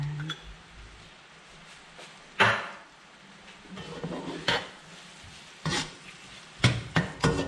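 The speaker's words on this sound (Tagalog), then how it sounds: "Antayin lang natin medyo mag-brown yung ating sibuyas. Dagdagan natin siya ng konting oil." Onions fry in oil in a pan with a faint steady sizzle, broken by sharp clanks and scrapes of a utensil stirring against the pan at irregular intervals.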